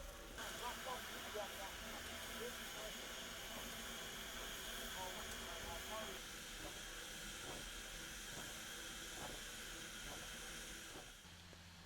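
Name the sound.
steam-powered mill engine running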